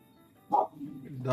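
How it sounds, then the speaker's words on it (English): A dog barks once in the Fallout New Vegas video game, a short bright bark rising over low background game sound, followed shortly by a second louder burst. "Dog noise, y'all. I don't know what the hell she's barking at, but she heard something."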